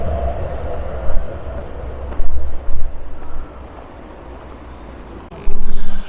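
A tram in Nottingham rumbles past at low pitch with a steady drone, and several louder clunks and bursts break through, the last one heavy near the end.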